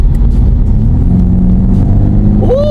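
A BMW 430i Coupe M Performance in Sport Plus mode, its engine giving a steady, loud low rumble from inside the cabin with a faint rising whine near the end.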